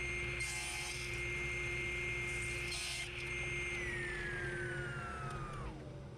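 A saw cuts wood segments for a glued-up turned bowl, holding a steady whine close by and then spinning down near the end, with no talking.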